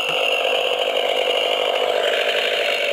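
Restored grandmother's Stihl chainsaw running steadily at full throttle with its chain brake released, a loud, continuous high-pitched buzzing drone with a slight rattle.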